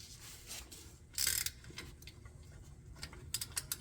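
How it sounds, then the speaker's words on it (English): A ratchet wrench with a 14 socket removes axle bolts on a 2000 Toyota Tundra, giving faint, quick mechanical clicking bursts close by, in short irregular runs with quiet pauses between. "You can get a 14 socket on all of those. I'm gonna go ahead and start pulling those out next"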